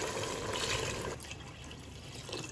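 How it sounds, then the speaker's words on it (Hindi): Water pours steadily into a pressure cooker holding mutton and yogurt for a black pepper mutton handi, a close, continuous splashing gush that eases midway, with no talking. "मिक्स करने के बाद अब इसमें मैं पानी डाल दूँगा।"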